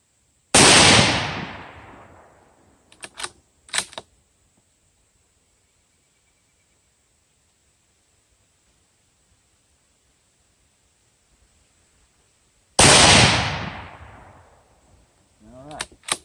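Two sharp, loud Howa rifle shots crack far apart during barrel break-in, each trailing off in a long outdoor echo, with brief clicks of the action between them and quiet in the gap.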